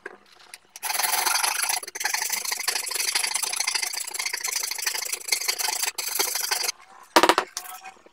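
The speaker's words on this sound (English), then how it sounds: "after sanding and filing of both the conduit and the headlight housing to get some flat spots on it" Hand sanding and filing of a metal conduit and a car headlight housing to flatten spots for a projector headlight fit, close rapid scraping and rubbing strokes in a continuous run, with a brief sharp rattle near the end.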